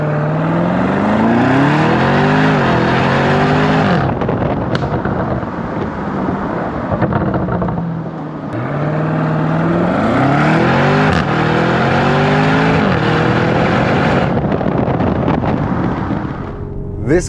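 Lamborghini Urus SUV engine, recorded from outside the car, revving and shifting through gears loudly and up close, with rising pitch sweeps that climb, drop and climb again over steady road and wind roar.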